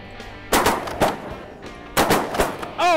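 Shotgun blasts during a duck and goose hunt in Arkansas: four sharp, loud reports in two close pairs, each followed by a short ringing tail.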